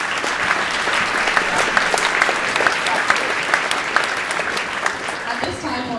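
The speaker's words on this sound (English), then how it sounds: "Let's give them another applause" An audience at a high school Veterans Day celebration gives a choir a steady round of applause, thick continuous clapping throughout that thins slightly at the end.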